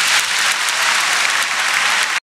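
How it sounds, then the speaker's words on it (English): A dense burst of crowd applause plays as a sound effect, loud and continuous for about two seconds, then cuts off abruptly into silence. "Let's clap it up."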